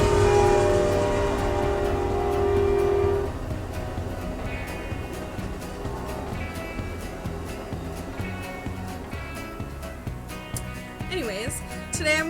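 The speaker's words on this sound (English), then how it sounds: "Oh my god, it's a fucking train." A passing train sounds a long, sustained horn, then its rumble and clatter carry on more quietly, with a person talking over it.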